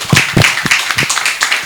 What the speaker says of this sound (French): Est-ce qu'on peut applaudir pour la dame,